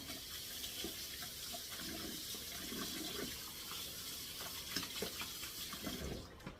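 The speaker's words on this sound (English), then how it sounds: "Put my bowl in the sink. Wash my hands again." Tap water runs steadily into a kitchen sink as hands are washed, a close, even splashing flow that cuts off near the end.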